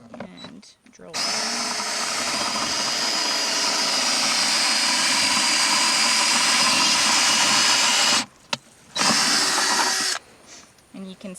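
A power drill boring into pasture soil in a collection bucket whirs loudly and steadily for several seconds, cuts out briefly, then spins up again, with faint voices around it.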